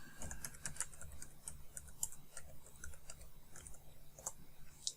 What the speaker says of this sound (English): below we'll type in our website address